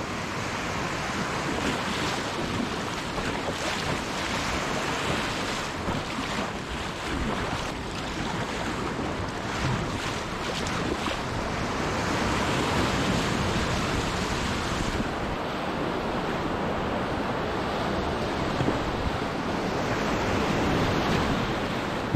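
Inflatable Gumotex Swing kayaks running the whitewater canal rapids on the Lenne at Hohenlimburg, with loud, steady rushing water and splashing throughout and wind buffeting the microphone, no voices.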